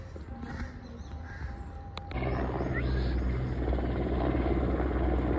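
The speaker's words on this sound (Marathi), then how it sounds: "हेलिकॉप्टर सुद्धा आलेला आहे फेरीसाठी." A helicopter flies overhead above a national park in Mumbai, its steady rotor roar rising and then holding loud and continuous, with crows cawing in the background.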